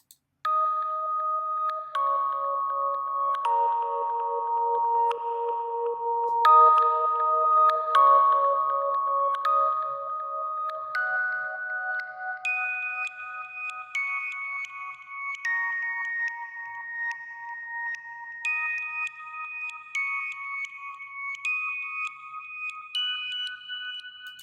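Electronic keys play a slow melody, each note ringing out with heavy reverb that trails off between notes, alone and steady in loudness.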